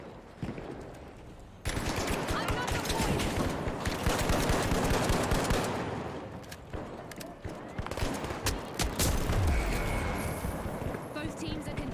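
Rapid, loud gunfire from an M1 Garand rifle in The Finals video game, dense bursts of shots over game noise with voices talking underneath throughout.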